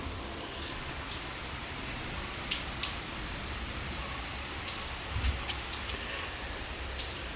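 Steady rain pattering on surfaces, a continuous hiss with a few louder drops landing close by, no voices.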